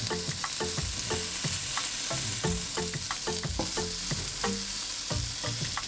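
Cauliflower steaks sizzle steadily in a hot pan while a utensil scrapes and taps repeatedly as the soft pieces are turned, with frequent sharp clinks over the continuous fry.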